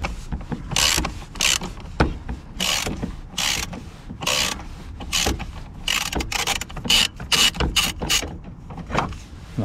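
Ratchet wrench unscrewing a 10 mm bolt on the air filter of a Renault Kangoo 1.9 D, close rapid clicking bursts in uneven strokes with short pauses between, crisp and fairly loud.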